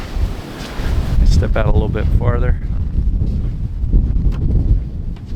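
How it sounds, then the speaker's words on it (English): Heavy wind buffets the microphone with a constant low roar in crisp winter air while a person speaks briefly amid the gusts. "It's probably in the 20s and windy, so brutal."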